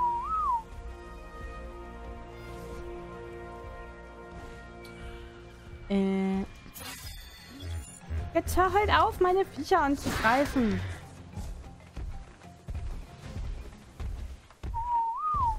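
Whistled command calls to tamed creatures in ARK: Survival Evolved sound in short rising and falling tones at the start and end, while someone talks over game sounds and chirping creature noises.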